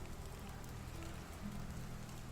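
Steady, dense rainfall in the video game Medieval Dynasty patters continuously on a hard surface, an even hiss with no voices or other sounds.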